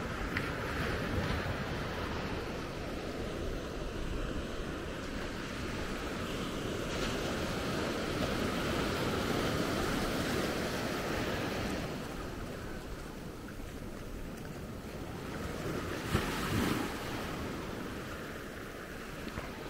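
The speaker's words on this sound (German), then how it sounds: "so glatt, so ruhig das Meer seit langem nicht mehr gewesen" Calm, gentle sea waves at Maspalomas on Gran Canaria, a steady soft wash of surf with light wind noise throughout, no speech.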